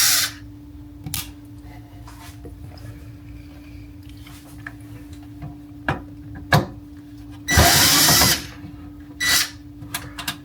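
A power drill backs screws out of a vent hood light fixture, with short separate whirring bursts and one longer run near the end, close up over a quiet background hum.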